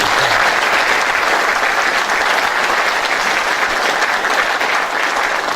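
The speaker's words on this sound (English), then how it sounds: "Would you give them a round of applause?" A civic audience at Edmonds' State of the City event applauds the Public Works Department, a loud, sustained roar of many hands clapping with no break from start to finish.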